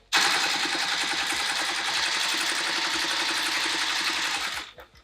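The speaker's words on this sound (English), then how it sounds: "For my Juki, a lot of times it'll sew vinyl without a Teflon foot." A Juki sewing machine stitching through vinyl for a see-through tote, one loud continuous run of fast mechanical whirring that stops abruptly near the end, with no voices.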